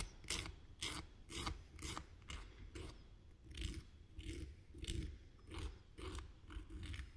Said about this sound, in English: And then I'm gonna start filing.